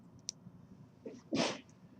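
A single short, breathy sneeze bursts out after a tiny click, with a quiet room behind it.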